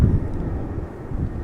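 An Airbus A380 taxiing at Amsterdam Schiphol Airport gives a loud, low engine rumble that holds steady through the short stretch, with light wind buffeting on the microphone.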